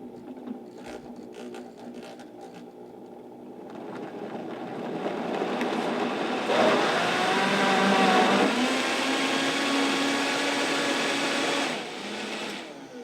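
A Vitamix blender works through frozen fruit with a tamper stick: the motor starts low, climbs to a loud, steady roar with grinding and knocking, then eases slightly near the end, with no talking.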